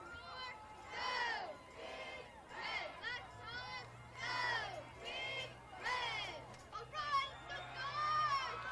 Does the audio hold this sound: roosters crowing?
no